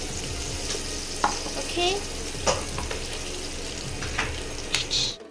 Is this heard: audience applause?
no